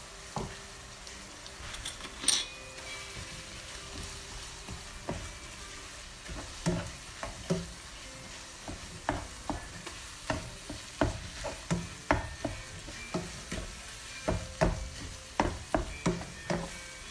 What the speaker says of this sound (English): I've cooked my ground beef until it's done, and the vegetables are starting to get soft.